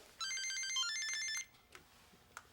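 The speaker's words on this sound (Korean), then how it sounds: "전화 왔냐?" A telephone rings with a bright electronic melodic tone for about a second in a quiet Korean home interior, followed by a few faint clicks and soft movement sounds.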